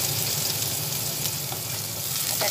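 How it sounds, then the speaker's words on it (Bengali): Chopped onion and garlic fry in hot oil, giving a steady, close, dense sizzle with faint stirring scrapes throughout, no voices. "তেল গরম হয়ে গেছে, সেই সময় আমি এর মধ্যে কুচানো পেঁয়াজ দিয়ে দিচ্ছি।"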